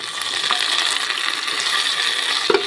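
Two chopped tomatoes hit a pan of lightly browned frying onions, setting off a steady loud sizzle with a brief stirring scrape near the end.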